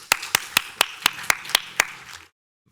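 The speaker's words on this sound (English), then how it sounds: "If you'll join me in giving a round of applause for the candidates." Eight or so crisp, evenly spaced hand claps ring out at a Bloomington city council candidates' forum, then stop abruptly into silence. The clapping is sparse and close rather than a full crowd.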